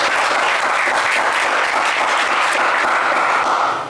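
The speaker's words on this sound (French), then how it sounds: "Allez, c'est pas mal Moussa, on vous applaudit." A studio audience on a French television game show breaks into steady, dense applause that fills the whole moment at full loudness, then tapers slightly toward the end.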